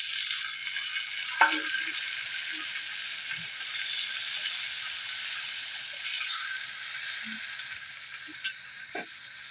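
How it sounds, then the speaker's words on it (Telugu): Tomatoes frying in a pan for a ridge gourd curry, a steady close sizzle throughout with a few soft clinks of a spoon stirring. "ఇవి ఎర్రగా వేగినాక మనం టమాటా వేసుకున్నాము"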